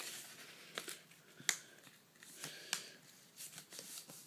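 Origami paper is folded into a ninja star, giving faint, scattered crinkles and sharp creasing snaps close by in a quiet room.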